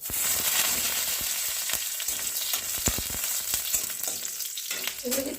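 Garlic frying in hot oil in a pan for an eggplant-leaf mash dish, a steady broadband sizzle with scattered crackles and a few utensil clinks, close and continuous with no talk.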